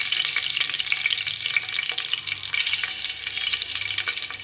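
Green chilli and spices crackle and spit in hot oil in a pan, a bright, busy sizzle with quick popping bursts and light stirring, close and steady without talk.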